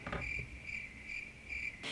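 A crickets sound effect plays: a loud, close chirp that repeats evenly four or five times over two seconds, with no talk.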